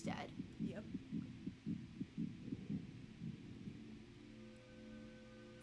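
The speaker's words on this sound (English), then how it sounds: "The heartbeat stopped." A slow, steady heartbeat in the video game What Remains of Edith Finch thuds about a dozen times, muffled and low, then fades out, leaving a faint hum.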